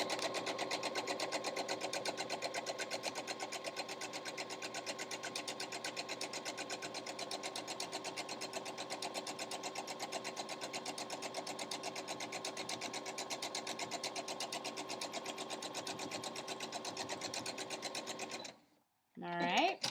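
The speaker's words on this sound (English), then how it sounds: "And then I'm just going to sew straight down." A sewing machine stitches a French seam straight down on a mini pillowcase, a steady fast mechanical whir running near and loud for most of the time before stopping abruptly, with a brief clatter at the end.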